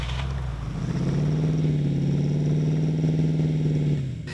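A 1972 Mercedes-Benz convertible with a 4.5 litre V8 runs steadily nearby, its deep, even engine note holding for about four seconds before easing off at the end.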